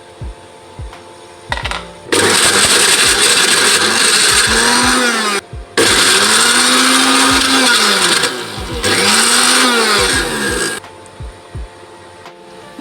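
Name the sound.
blender mincing meat filling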